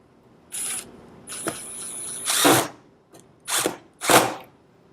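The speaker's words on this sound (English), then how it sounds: "Attach the last couple of screws." A power drill drives screws into a wooden bumblebee house in several short whirring bursts, some with rising pitch as the screw seats, separated by brief pauses, close and fairly loud with no talk.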